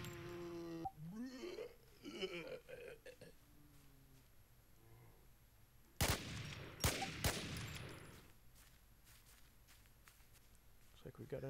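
Gunshots in the video game Infestation The NewZ: a quick burst of sharp cracks in the middle, heard after a stretch of speech and in-game footsteps, moderately loud against a quiet background.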